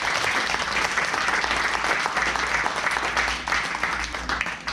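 A church congregation applauds during a Spanish-language sermon, a steady, dense wash of many hands clapping that carries on for several seconds, loud and close, with no voices over it.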